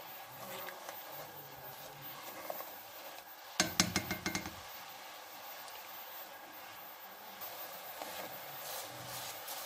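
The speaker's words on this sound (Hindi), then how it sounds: "चम्मच चलाते रहेंगे" A spoon scraping and clinking against a pan while milk thickens into homemade condensed milk, a short burst of metallic taps in the middle over a steady faint background hiss, with no talking.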